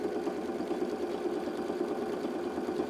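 A sewing machine stitches folded fabric around the outline of a rabbit-shaped clock piece, a steady rapid mechanical whirring hum running continuously without pause.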